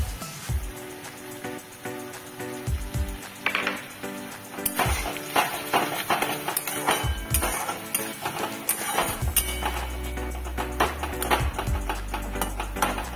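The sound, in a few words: opening lid and stirring onions for fish curry in pot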